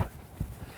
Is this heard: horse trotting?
yes